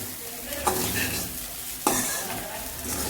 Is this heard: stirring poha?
yes